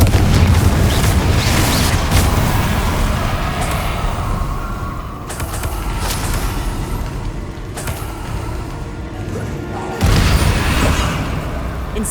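Confringo spell explosions in the Hogwarts Legacy video game, heard as a continuous loud, dense roar of booming blasts and rumble with a few sudden bursts and drops in intensity.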